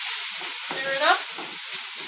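A pan of tomato and seed mixture sizzles and fries steadily, with a brief scraping stir through the middle, close and bright.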